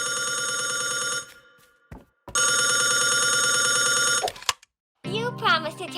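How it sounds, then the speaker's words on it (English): A telephone bell rings in a cartoon, two long loud bursts of rapid trilling separated by a short gap, followed by a voice speaking. "the phone is ringing"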